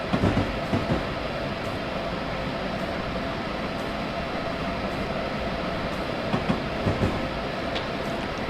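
A train accelerating in the Train Simulator 2015 video game gives a continuous, loud rolling rumble, with faint rail clacks now and then throughout.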